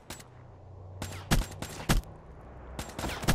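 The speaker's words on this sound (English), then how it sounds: "This gun was shooting fast as hell." XR2 assault rifle fire in Black Ops 3, several sharp, rapid bursts separated by short pauses over a quiet background, loud and close.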